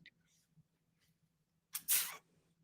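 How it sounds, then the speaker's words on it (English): A soft clattering swish as a cat flap swings, a short rattling burst after quiet, with faint background murmur. "they just keep going in and out of the cat flap."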